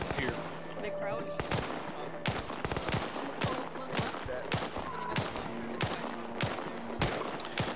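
Gunfire in a military shooter video game, rapid sharp rifle shots in irregular bursts and single cracks, loud and close, with distant shots behind and occasional team voice chatter.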